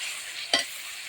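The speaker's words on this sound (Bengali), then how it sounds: "এবার মশলাটা কষাবো।" Spice paste with salt and sugar for khichuri sizzles steadily in a pan over a strong wood fire, broken by one brief scrape of stirring midway.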